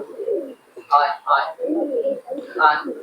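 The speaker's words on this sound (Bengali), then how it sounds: "গিরিবাজ পায়রাগুলো তোমাদেরকে দেখাবো" Giribaz pigeons coo in a few soft, throaty bursts at close range, with a low murmur of other birds and background voices running underneath.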